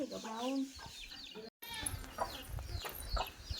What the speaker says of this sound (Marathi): खूप साऱ्या कोंबड्या आहेत आमच्या इथं.